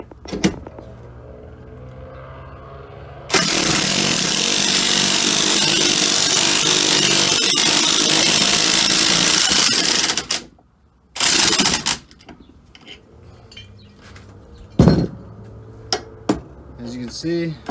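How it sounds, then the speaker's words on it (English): A ball joint press driven through a 1 1/4 inch socket forces out an old ball joint during an off-road control arm swap: a loud, steady mechanical whir runs about seven seconds, then a short burst and a few sharp bangs, with no talk. "I got a ball joint press."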